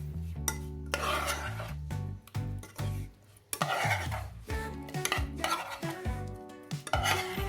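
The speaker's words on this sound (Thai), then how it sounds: "แล้วก็เริ่มคลุกเคล้าทุกอย่างให้เข้ากันให้หมดเลยครับ" Utensils scrape and clink against a pan while sweet pork liver is tossed and mixed, a steady rhythm of stirring with occasional metallic knocks and a faint sizzle.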